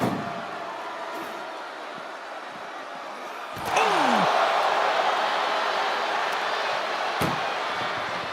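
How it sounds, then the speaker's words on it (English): In the WWE 2K25 video game, a sharp, loud ambulance door slam cuts through steady crowd noise, followed by a second thud a few seconds later. "Trying to at least slam one door shut."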